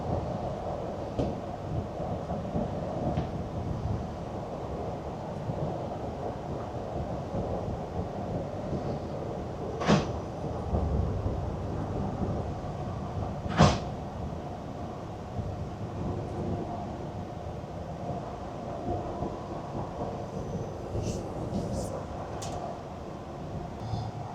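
A commuter train on the Bradford Forster Square to Skipton line slowly nears Skipton station, giving a steady low rumble and rattle inside the carriage, with two brief sharp clanks standing out midway.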